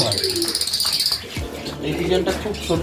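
Pigeons on a pigeon farm, including blue satin pigeons, make soft coos and chirps close by, with a talking voice over them and a steady high insect-like buzz in the background.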